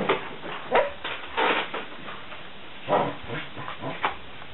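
A young dog at a volunteer-run sanctuary in Thailand gives several short, separate barks and whimpers, fairly close, with quiet room noise between them.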